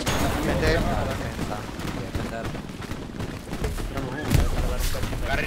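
Dense gunfire and explosions aimed at the player in the World War II shooter Hell Let Loose, a continuous battle din with repeated shots and a heavier boom near the end, under speech.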